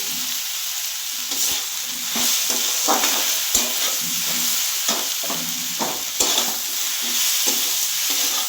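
Flat beans sauté with spices, salt and turmeric in a pan, a loud continuous sizzle up close with repeated scraping stirs and sharp spatula taps throughout.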